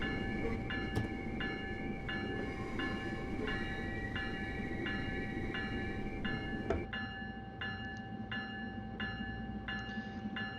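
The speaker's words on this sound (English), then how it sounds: "Brakes to lap, take a 12-pound set, train speed decreasing, go to hold, verify that the magnet valve's working, and release." Steady rumble of an NJ Transit Northeast Corridor train in Train Sim World 3 under braking, with a continuous hum, repeating rhythmic clicks and a brief clunk before the tone changes.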